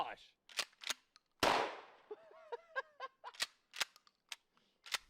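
A video game weapon fires candy bullets at a target, giving a string of short, sharp popping shots spaced irregularly, with one louder impact burst and some brief chirping effects. The level is quiet overall.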